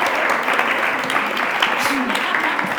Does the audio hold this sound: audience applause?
yes